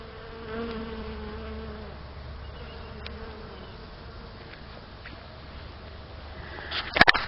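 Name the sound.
bees buzzing on broccoli flowers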